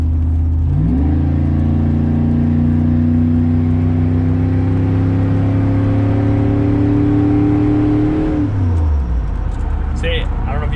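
A loud LS-swapped V8 engine in a K1500 pickup truck climbs in pitch and holds a steady high drone for several seconds, then drops back down as it shifts gear.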